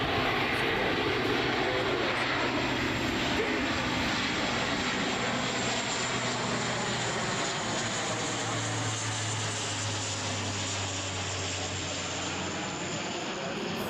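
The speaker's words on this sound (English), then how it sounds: "C-130 is on its way, so let's see how this second drop goes" A C-130 transport plane flies over during a night airdrop, its propeller engines giving a steady, loud, continuous drone that holds throughout with a low hum underneath.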